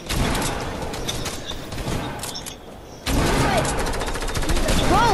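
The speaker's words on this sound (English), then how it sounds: "Oh, that's why I was reloading super fast in my SMG." Rapid submachine gun bursts from an online shooter game, loud, dense fire that breaks off at about three seconds and then resumes with more overlapping shots.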